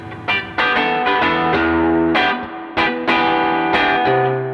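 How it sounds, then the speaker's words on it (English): Distorted electric guitar through an overdriven Fender Hot Rod tube amp, with a thick, driven tone, plays chords and single notes in sharp attacks, ringing out between strikes. "when I push the overdrive, the notes remain articulate, the low end feels great"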